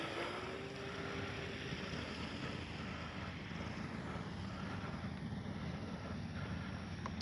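A Durafly Auto G2 V2 RC autogyro's rotor spins up into a steady, faint whirring drone that holds evenly throughout, with no voices over it.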